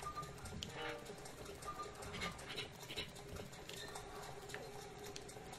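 Rain falling in the Hyrule Forest area of the video game Zelda: Breath of the Wild, a steady soft patter of drops spread evenly across the whole clip with no talk over it.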